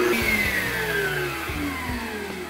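An electric mixer beats unsalted margarine with a loud, steady motor whine whose pitch slowly drifts downward, heard alone at close range.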